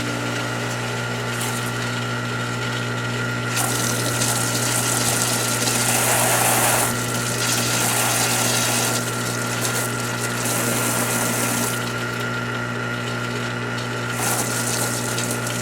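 A pool filter pump runs continuously while the pool is being drained, a loud steady mechanical hum with rushing water that surges in gushing bursts several times.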